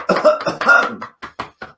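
During a home relaxation breathing exercise, a person exhales audibly and then gives a few short, separate coughs, close to the microphone with brief pauses between them.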